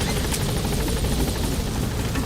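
Helicopter rotor noise from Metal Gear Solid V: The Phantom Pain, a loud, steady thumping drone filling the short stretch without pause, close by and heard alone.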